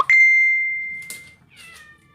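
A neighbour's cat gives a short meow after a sharp ringing ding that fades slowly, with another brief clink in between, all close by with no talk.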